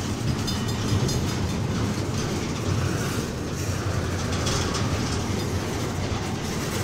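Canadian National freight train 9638 rolls through Effingham, Illinois, a loud, steady rumble of railcars with rhythmic wheel clatter and faint squeals, sustained and close, with no voices.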